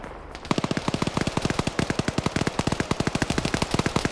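Rapid machine-gun bursts crack out in a military video game battle, loud and close, a fast continuous string of shots after a brief quieter start.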